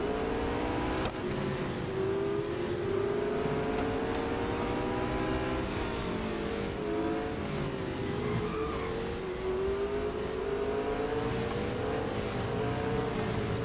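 A McLaren Speedtail races in Real Racing 3 at Circuit of the Americas, its game engine droning steadily with rising and falling pitch through the corners, continuous and moderately loud with no talk.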